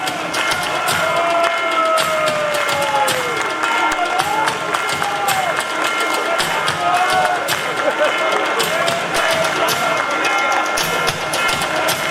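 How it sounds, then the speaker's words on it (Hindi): Delegates at a zonal committee meeting applaud to welcome an official to the stage: continuous crowd clapping and cheering that fills a large hall for over twelve seconds, with voices mixed in. "आप सभी जन तालियों के गूंज के साथ हम इनका स्वागत और सत्कार करेंगे"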